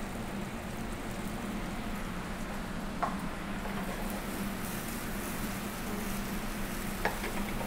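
Boiled potatoes fry in a pan for a Spanish tortilla, giving a steady close sizzle and hiss with a couple of faint clicks of stirring, no voices.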